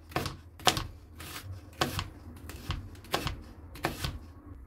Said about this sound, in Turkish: Ve soğanımızı ince ince doğruyoruz.